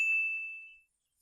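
A single bright notification bell dings once, clear and close, and its pure tone rings out and fades to silence within a second.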